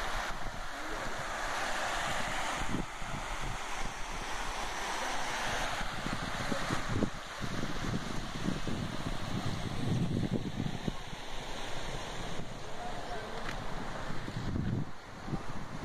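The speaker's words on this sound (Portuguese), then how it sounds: "Queda da água." A waterfall in Mucurici, Espírito Santo, Brazil: water falling with a steady, loud, continuous rushing roar, mixed with wind buffeting the microphone throughout.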